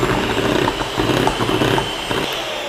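Electric mixer beating cake batter for a strawberry shortcake at speed 1, a steady close whirring drone with faint rattling, continuous throughout with no talk.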